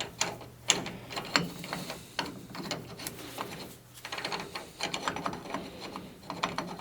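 A ratchet tightening the hub nut on a 1999–2006 Chevy Silverado 2500HD 14-bolt full-floating rear axle, rapid clicking in repeated bursts of strokes with short pauses between, fairly close.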